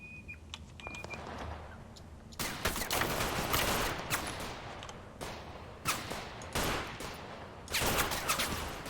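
Gunfire in a combat game: bursts of rapid shots and heavy reports come in clusters, with brief lulls between volleys and no talk over them.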